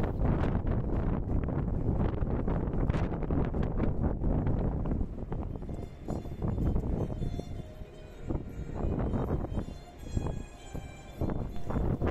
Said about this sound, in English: As it is the highest deck, there is heavy wind here all the time.